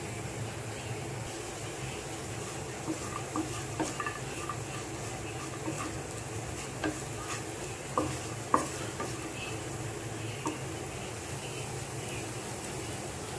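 Coconut, cashews and raisins roast in a pan for payasam, giving a soft continuous sizzle broken by scattered scrapes and light taps of a spoon against the metal, quiet and close with no talking.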